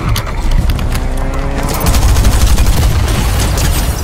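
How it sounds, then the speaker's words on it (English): Loud explosion and rapid gunfire in a video game: a dense, continuous barrage of booms and shots that swells after the first couple of seconds and stays heavy throughout. "Something blew up."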